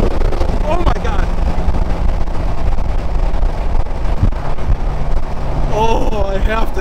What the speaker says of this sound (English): Okay, all of you with the 488 need to do this right now. The Kline exhaust on the tune.